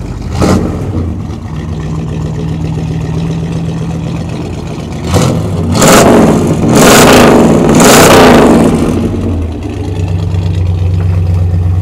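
A 1970 Chevelle with a big-block engine idles with a deep rumble, then revs hard in several loud, rising bursts before settling back to a low, steady idle.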